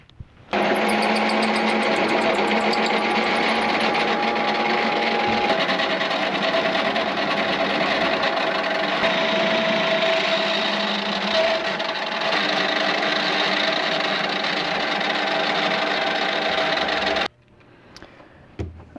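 A power tool enlarges a hole to 1 1/8 inch in a 3D-printed build, running loud and steady with a high mechanical whine for about seventeen seconds before cutting off abruptly.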